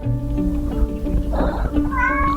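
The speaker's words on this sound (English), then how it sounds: "You might hear my kitten in the background." A kitten meows softly in the background beneath a steady low hum, with a brief higher cry toward the end.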